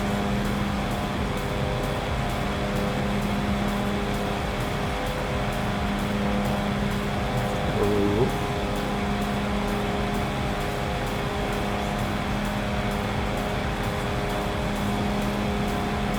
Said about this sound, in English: You hear less of the engine.